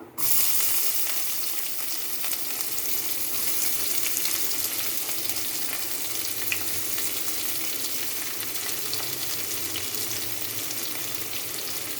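Continuous loud sizzling of onions frying in hot oil with popped mustard seeds, steady and unbroken, with faint stirring now and then.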